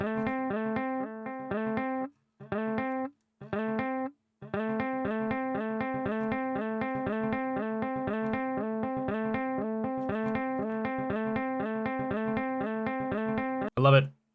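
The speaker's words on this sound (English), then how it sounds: "Let's move on to the simple delay." An electric guitar plays a rhythmic picked riff through a simple delay effect from a Quad Cortex or Strymon unit, clean repeating notes with short gaps early on, then a steady run before a final strum.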